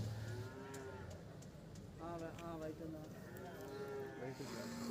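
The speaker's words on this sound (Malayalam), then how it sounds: "ഒക്കെ വലിയ വലിയ എരുമകളാണുള്ളത്." Large water buffaloes at a livestock market low with deep, drawn-out moos, some nearby and some farther off, while someone talks over the livestock noise.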